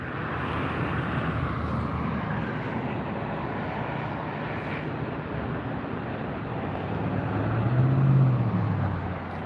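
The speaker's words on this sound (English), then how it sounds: "That's our third A380 of the live stream. Coming in on the south side today." Airbus A380 airliner landing at LAX on the south side, a loud continuous jet roar close by that builds to a peak as the aircraft passes, with no talking.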